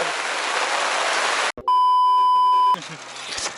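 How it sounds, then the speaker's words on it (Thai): Heavy rain roars in a dense hiss, heard from inside a car, cut off briefly by a sharp electronic beep, then the downpour returns. "ฝนตกแรงมากเลย"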